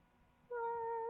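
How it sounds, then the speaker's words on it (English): An old pet cat gives a single faint meow in the background, starting midway and drawn out in a quiet room. "that is not me, that is my cat"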